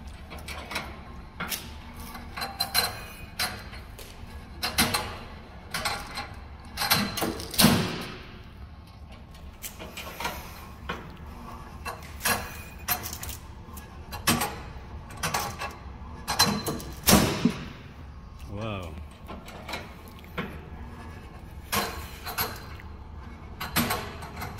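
A rice pop pellet cake machine pressing wheat pellets into cakes gives off repeated mechanical clacks and popping bursts at an irregular rhythm over a steady low machine hum, moderately loud and continuous.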